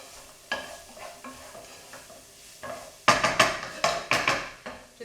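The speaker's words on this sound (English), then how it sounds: "Give that a good stir." Tomato pasta sauce is stirred in a pan: a faint simmer at first, then a run of loud, rhythmic scraping strokes of a utensil against the pan, close by.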